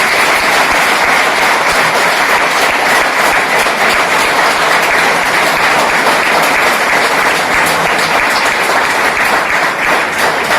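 Loud, sustained applause from a seminar audience fills a banquet hall, a dense continuous clatter of many hands clapping without letup.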